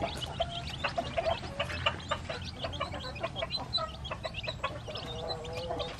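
Many red junglefowl chicks peep and cheep together in a busy, continuous chorus on a farm, with a low steady rumble underneath throughout.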